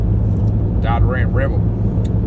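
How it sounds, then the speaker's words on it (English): Steady low rumble of a 2019 Dodge Ram Rebel pickup truck driving, continuous road and engine drone throughout with someone speaking briefly over it. "Right now I'm driving a 2019 Dodge Ram Rebel"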